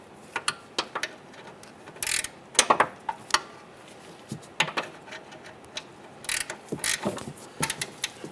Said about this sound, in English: We're going to use our 18mm gear wrench, pull down on the cradle, and we're going to go ahead and loosen and remove this bolt here